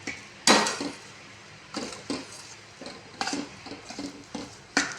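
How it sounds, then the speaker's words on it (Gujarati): Flour roasting in ghee in a pan for Gujarati sukhadi, stirred constantly over low heat: a spoon scrapes and knocks against the metal pan in irregular clattering strokes, close and moderately loud, with a faint sizzle between them. "સતત આપણે લોટને હલાવવા રહીશું।"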